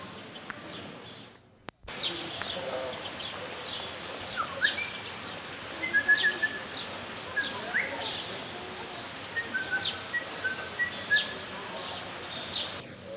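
Birds being fed by a man in Paris, with scattered chirps and short calls over steady outdoor city background noise, fairly faint and intermittent.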